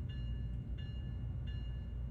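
Train rolling through a station in the Train Sim World video game, a steady low rumble with faint repeated high tones, heard alone at a moderate level.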